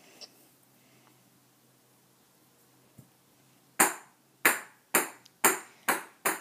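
A few quiet taps, then six sharp hard cracks in a loose rhythm, each a bright brittle impact with a short ring, like shells hitting a hard surface and breaking.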